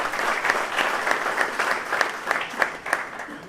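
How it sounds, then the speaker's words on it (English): Applause from the audience at a community police forum public meeting, steady clapping with a few sharper individual claps standing out, fairly close and heard without speech. "we need to give the pastor, Zach, and all our esteemed guests a big round of applause"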